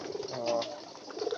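A black pigeon coos softly at close range, a few low throaty calls over a quiet background, around feeding time.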